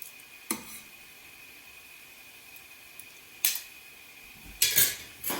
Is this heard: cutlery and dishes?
yes